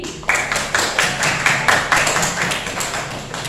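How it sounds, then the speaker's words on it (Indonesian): A classroom of students clapping for a group during a lesson, with loud, close claps falling into a regular rhythmic pattern of repeated bursts. "Tepuk tangan untuk kelompok yang tinggi."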